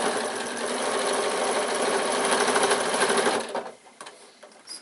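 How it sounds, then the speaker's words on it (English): Sewing machine stitching slowly through many layered thicknesses of a bag, a steady, close, continuous mechanical whirr that runs for several seconds, then stops abruptly and leaves faint handling noises. "we're sewing over quite a few thicknesses now, so just take it slowly"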